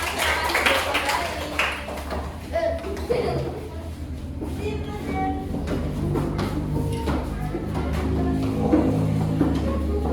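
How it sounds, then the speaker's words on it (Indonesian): Children clapping together in a Grade 5 classroom, a steady patter of many small hands mixed with chatter and kids' voices close by, continuing throughout. "Yeay, tepuk tangan kita semua."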